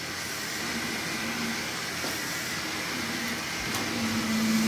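A plumbed sump pump starts up and keeps running, a steady close whirring hiss with a faint tonal hum that grows slightly louder toward the end, without any speech.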